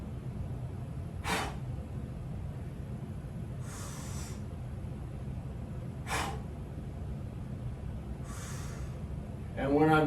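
Short, forceful exhalations from someone pressing a bench press, four breathy bursts spaced a couple of seconds apart over a steady low background hum, with a sharper rasping breath at the end.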